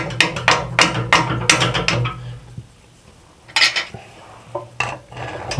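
A screw is worked loose on a household plumbing valve, with a quick run of sharp metallic clinks and scrapes up close, a pause, then a few more tool taps and clicks.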